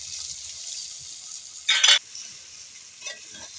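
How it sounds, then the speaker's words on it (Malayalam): Chili, shallots and garlic fry in a pan with a constant thin, hissing sizzle, broken by one brief louder burst of crackle and scraping, then a fainter stir. "നമ്മുടെ മിളക് ഉള്ളി ചുവന്നുള്ളി വെളുത്തുള്ളിയൊക്കെ കൂടി മൂത്ത് വന്നിട്ട് അപ്പം കറിവേപ്പില ഇട്ട് കൊടുക്കാം."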